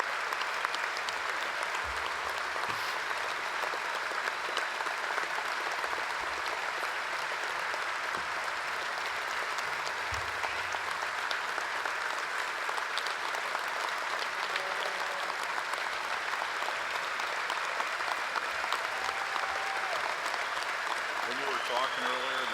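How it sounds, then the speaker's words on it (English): Sustained applause from a large audience at the 2012 NALC union convention, steady and dense for over twenty seconds, with faint voices mixed in beneath the clapping. "So you took a drink, that's why they started clapping."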